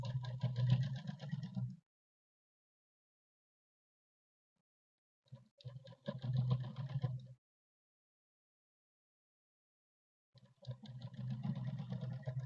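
A sewing machine stitching fabric for a blouse runs in three separate bursts of steady mechanical whirring, each lasting one to two seconds, separated by long silences.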